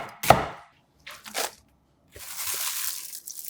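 A knife chopping through a quarter onion into thin slices on a cutting board, a few crisp, close, separate cuts with short pauses between them and no voices.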